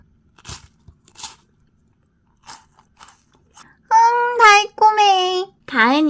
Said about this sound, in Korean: 웨하스가 엄청 큼직하니 좋구만. 먹어볼까?